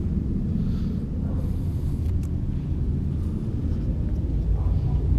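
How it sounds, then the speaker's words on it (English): A jet aircraft passes overhead outdoors as a steady, loud low-frequency roar and rumble that fills the whole stretch without a break. "sorry about the jet noise."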